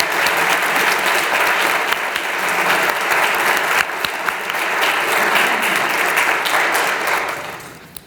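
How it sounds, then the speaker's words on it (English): Sustained, dense audience applause fills an award ceremony hall for a 2019 James E. Armstrong Award, steady and loud for about seven seconds before tapering off near the end. "please join me in a round of applause for these folks who have done so much"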